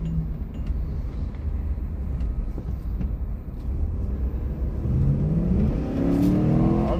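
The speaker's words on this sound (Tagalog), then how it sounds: "Oba, galit yung makina." A Chevrolet Tahoe with a faulty engine revs hard and continuously, its loud roar climbing in pitch toward the end like a plane's whine, with no talking over it.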